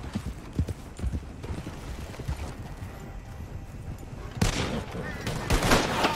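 Galloping horse hooves in Red Dead Redemption 2, a steady rapid clip-clop running throughout, with gunfire bursts and rising action noise toward the end; a player talks over it.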